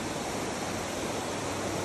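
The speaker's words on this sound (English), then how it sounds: "But there's the full waterfall in the distance." A distant waterfall in open wilderness roars as a steady, even wash of broadband rushing water, heard alone without voices.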